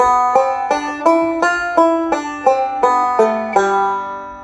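A plucked banjo run of about ten bright notes in G, evenly spaced, each ringing briefly, played alone, rising from B then stepping down to G.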